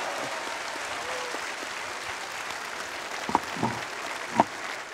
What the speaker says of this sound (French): Vous pouvez l'applaudir parce que c'est sa première intervention